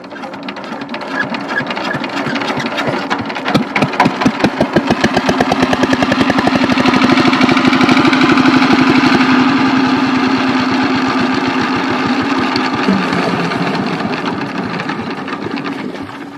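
A machine engine runs loud and close with rapid, even rhythmic chugging that builds, holds steady for several seconds, then eases slightly toward the end.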